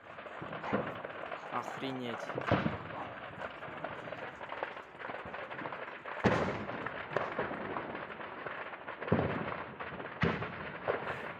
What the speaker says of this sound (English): Those are all the rounds going off.